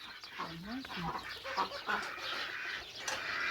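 Chickens cluck and chatter nearby on a farm in a busy, uneven stream, with people talking over the birds.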